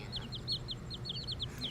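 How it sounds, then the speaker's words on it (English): Chickens calling with a quick run of high, thin chirps and peeps that repeat steadily over faint low background noise. "Also, those are the chickens."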